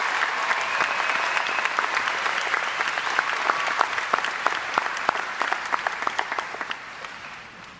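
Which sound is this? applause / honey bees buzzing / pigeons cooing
applause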